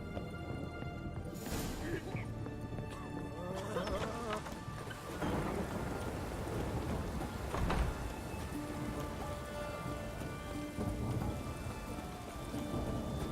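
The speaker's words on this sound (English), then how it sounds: "Don't you dare stop raining." Rain and thunder in the video game The Witcher 3 make a dense, continuous wash of falling rain. Rolling thunder cracks and rumbles through it at several points, and a person's speech can also be heard.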